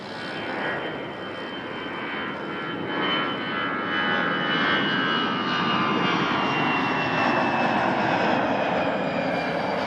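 A jet airliner roars as it climbs out at Toronto Pearson Airport, a loud, broad, continuous engine rumble that builds slightly and holds steady overhead for about ten seconds.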